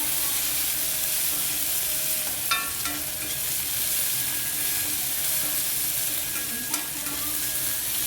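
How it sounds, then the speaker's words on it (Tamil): Onions, curry leaves and coriander sautéing in a pan for a Kerala-style beef fry, a steady loud sizzle and hiss with a couple of brief stirring scrapes, no voices. "கருவேப்பிலை இது எல்லாத்தையும் போட்டு ஒரு 2 நிமிஷம் நல்லா வதக்க போகிறேன்."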